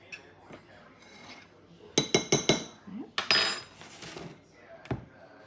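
A spoon clinks and scrapes against a bowl while chocolate brownie cookie dough is stirred into wet ingredients, a few sharp clustered knocks followed by softer rubbing, fairly quiet with pauses between.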